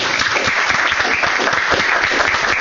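A lecture audience applauds the speaker after a televised talk on the molecular basis of memory, with loud, continuous clapping and no voices.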